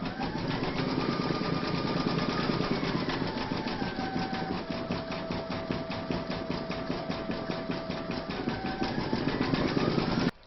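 An embroidery machine stitching an ivy vine in green thread, giving a fast, even mechanical clatter with a steady hum that runs continuously and close before cutting off abruptly.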